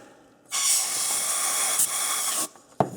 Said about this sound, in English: Blow it out with some compressed air.